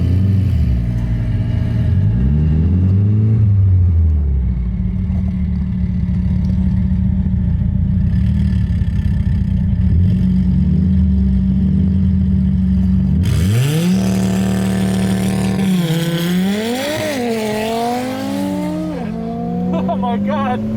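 700 wheel horsepower Audi RS3 in a half-mile run, the engine roaring loudly through repeated rising pitch sweeps as it shifts through gears, with a shout heard over the engine noise.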